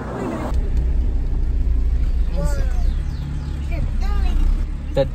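A car engine rumbles low and steady from inside while driving in Costa Rica, with people talking and chirping sounds over the top.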